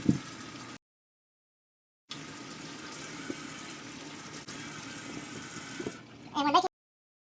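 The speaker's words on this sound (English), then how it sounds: "go over to the sink and go ahead and rinse off our potatoes" Running tap water splashes steadily into a sink as potatoes are rinsed, cutting out briefly near the start, then resuming with a few clunks as it stops.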